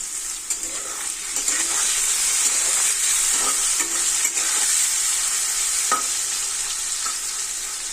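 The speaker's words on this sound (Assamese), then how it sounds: "এতিয়া এইখিনি ভাজি ল'ম।" Paneer cubes fry in a pan for matar paneer, a steady close sizzle broken by scraping and clinking as they are stirred.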